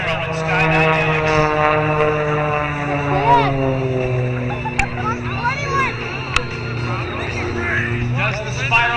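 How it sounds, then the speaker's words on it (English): An Edge 540 aerobatic airplane with a Sky Dynamics engine flies at the Jones Beach air show, its steady propeller drone and shifting engine tone sustained throughout beneath an announcer's continuous commentary. "the airplane, the Edge 540 that is flying"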